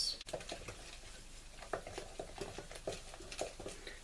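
Rice flour and water bajji batter stirred in a bowl, with soft wet patters and scraping strokes repeating unevenly at close range, no one speaking.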